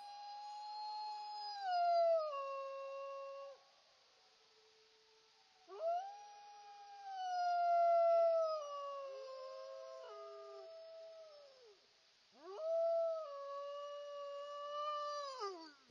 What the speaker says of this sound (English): we got a nice coyote here